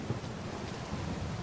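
Thunderstorm rain in Uncharted 4, a steady hissing downpour with a low wind-like rumble underneath, heard alone without voices.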